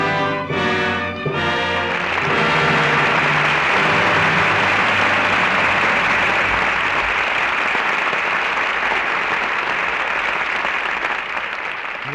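Studio audience applause at the close of a radio drama, a dense, steady roar of clapping that swells after a brief musical sting and holds loud and unbroken throughout.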